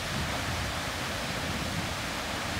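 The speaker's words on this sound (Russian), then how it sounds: "местами рев водопадов" Steady, dense roar of a mountain river and waterfalls, a continuous broadband rush with no breaks, loud and close, with no voices.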